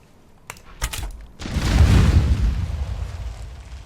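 Explosive barrels blowing up in Conan Exiles, a few sharp cracks and pops followed by a big sustained booming roar that slowly decays.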